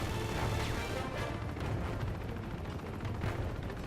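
Blind-fired gunshots in the video game Uncharted 2, a dense barrage of bursts over continuous combat noise, loud and sustained throughout, with no voices.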